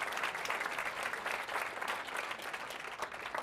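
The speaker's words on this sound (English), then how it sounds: "I think the facilitators need a really big hand of applause here" Conference attendees at a closing summary session in Ottawa give the facilitators a sustained round of applause, an even wash of many hands clapping at moderate distance.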